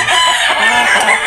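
Hens clucking close by in a dense, continuous chorus of overlapping short calls, loud and busy throughout.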